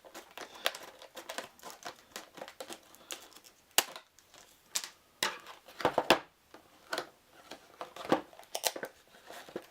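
Crinkly rustling and sharp clicking snaps of plastic packaging for a Star Wars: Imperial Assault miniatures pack being handled and torn open, close by, in irregular bursts with brief pauses.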